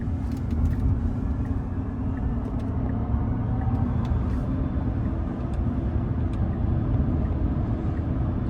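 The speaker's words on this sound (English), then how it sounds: "I can hear the HVAC system ripping as the car is prepping for fast charging" Loud, steady HVAC fan roar inside a Tesla Cybertruck as it preconditions for fast charging while driving in traffic, a dense continuous rumble and whoosh filling the cabin with no speech.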